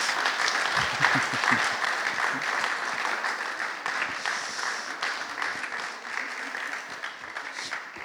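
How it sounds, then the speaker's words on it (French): An audience at a conference on cremation during the pandemic applauds the speakers, a dense, steady wash of many hands clapping that carries on for several seconds at even strength. "je vous propose d'applaudir quand même nos intervenants et nos intervenantes"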